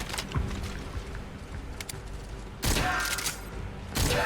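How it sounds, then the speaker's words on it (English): A shotgun fires in Metal Gear Solid V during a base infiltration: after a quieter stretch of ambient rumble, two heavy, close blasts land more than a second apart. "I'm using the shotgun because these guys are in my path"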